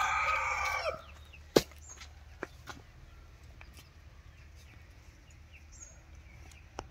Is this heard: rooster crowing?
yes